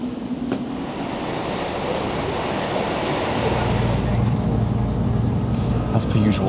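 A steady low rumble fills a busy Chiltern Railways train carriage, growing heavier as it picks up speed, with faint clicks and murmuring voices in the background.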